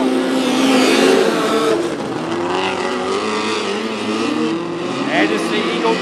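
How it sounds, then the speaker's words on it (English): Race cars roar on the restart at Macon Speedway, a dense pack of engines accelerating under the green flag, loud and continuous, while an announcer talks over them. "car number 22 of Andy Ballparker on the loud pedal. Green flag flies, and here we go"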